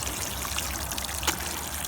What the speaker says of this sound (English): now we're gonna water it thoroughly, just the base of the plant